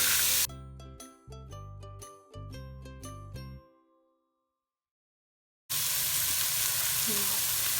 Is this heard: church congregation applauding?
no